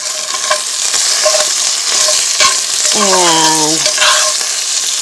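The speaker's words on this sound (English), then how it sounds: "Now, with these, I'm just gonna stir them in." Wild greens are stirred into a hot cast iron skillet with chicken of the woods mushroom, giving a loud, steady sizzle with scraping stirs on top and a brief voice.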